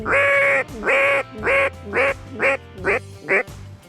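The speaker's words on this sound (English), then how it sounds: "there's lots of birds, lots of ducks" Ducks quack during an opening-weekend duck hunt: seven loud, close, nasal quacks in a steady descending series, each a little shorter than the last, with no talking.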